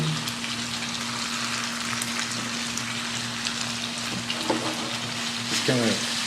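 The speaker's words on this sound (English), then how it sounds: "So with that cooking, we want to add some fresh peppers." Fresh sweet peppers frying in a pan as it is shaken around, a steady close sizzle with a few clatters of the pan near the end.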